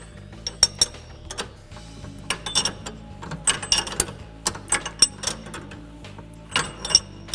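Wrench turning a nylock nut two turns on a John Deere Gator track carriage, close metallic ratcheting clicks and taps in irregular bursts with short pauses, no voices.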